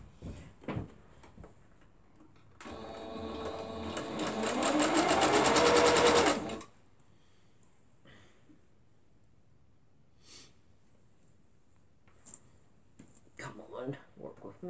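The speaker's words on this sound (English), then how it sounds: "So I'm going to sew these 3 together, and I'm going to sew it down to that." A sewing machine stitches fabric pieces together in one close, rapid burst of about four seconds, its whirring speeding up as it runs, with quiet handling noises and soft breaths around it.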